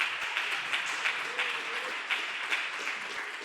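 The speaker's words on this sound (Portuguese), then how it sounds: "Vamos aplaudir o Senhor." A church congregation applauds during a sermon, steady dense clapping from many hands throughout, fairly close and even in loudness.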